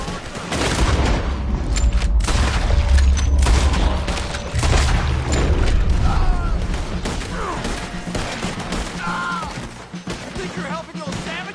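Cannon fire during a hilltop battle in Red Dead Redemption 2: heavy, booming blasts mixed with crackling gunfire, loud and close, while voices talk over the fighting.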